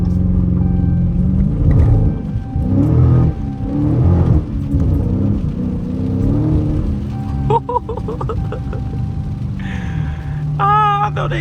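A 2022 Dodge Challenger Widebody Scat Pack drifting in snow gives a steady, loud low engine rumble that swells with revving throughout, with brief sharper squeals and whines near the end.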